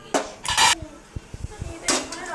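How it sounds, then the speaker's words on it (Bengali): A cooking pot is set down among dishes in a home kitchen, giving a few sharp clanks and clinks of metal cookware, followed by scattered lighter taps and knocks nearby. "হাঁড়িটা বসিয়ে দিলাম।"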